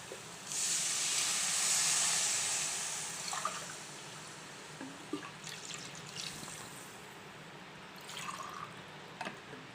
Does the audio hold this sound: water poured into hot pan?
yes